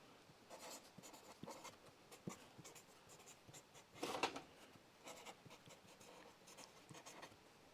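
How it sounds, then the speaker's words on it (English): Pen scratching on paper while dimensions for a gas tank are noted in a workshop during a Crew Cab Charger restoration, quiet and intermittent strokes with a louder scribble midway. "got to write down the dimensions for the gas tank"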